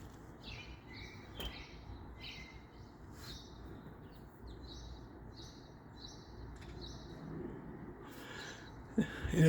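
Small birds chirp in short repeated calls outdoors, faint and at a distance over a steady background hiss, with brief soft noises near the end.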